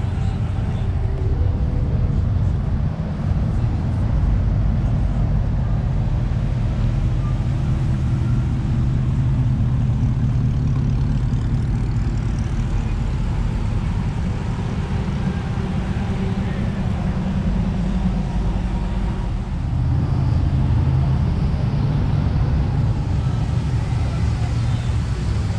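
Hot rod cars cruise past on the strip at an evening car show. Engines rumble and swell in a steady stream of passing traffic, close and continuous, with faint talk underneath.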